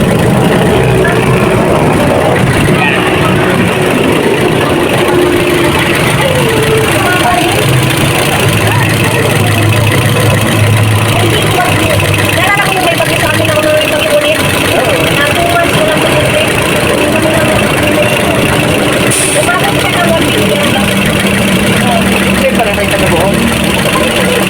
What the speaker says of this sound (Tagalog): At malapit na yung fan motor umikot.